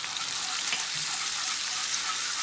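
White wine hits a hot pan while making pesto sauce, giving a steady, dense sizzle that hisses evenly and fairly loudly throughout with no talking.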